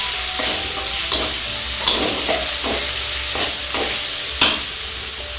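Spices with cumin powder being sautéed in a hot pan for a vegetarian brinjal dish, a steady sizzle broken by repeated scraping stir strokes at an even rhythm, close and fairly loud.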